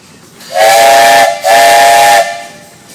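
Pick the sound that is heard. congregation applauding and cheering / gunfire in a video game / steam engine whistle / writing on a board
steam engine whistle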